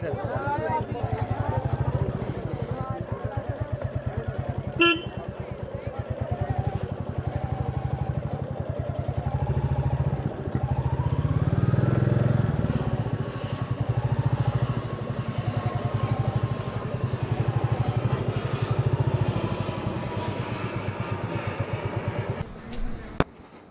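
Motorcycle engine running near a plane crash site, a steady low rumble that lasts the whole time under crowd chatter and voices.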